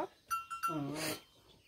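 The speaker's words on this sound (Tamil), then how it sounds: "இது இந்த 4 ஆட்டுக்குட்டியுமா" Newborn goat kids bleat in a few short, wavering cries: three quick calls, then one longer, louder bleat, heard close up with quiet between them.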